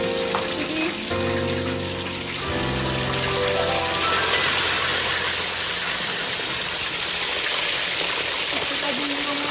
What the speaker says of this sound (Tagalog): Kita din yung ulan.